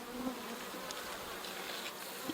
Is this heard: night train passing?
no